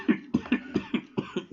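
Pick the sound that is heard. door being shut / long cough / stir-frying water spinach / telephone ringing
long cough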